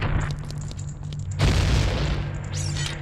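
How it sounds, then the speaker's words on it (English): Explosions boom in The Legend of Zelda: Ocarina of Time, a loud blast followed by a sustained roaring burst and crackling debris, with game sound effects layered over a steady low hum. "if you have an explosion like that"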